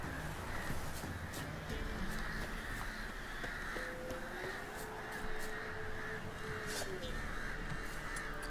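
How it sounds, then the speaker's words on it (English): Crows caw in Witcher 3, several harsh calls repeating at a middle distance over a steady windy ambient bed, with no talking. "Lots of birds up there."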